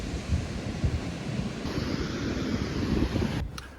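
Ocean waves roll in at the beach as wind buffets the microphone, forming a steady, rushing roar of surf and gusts with no voices.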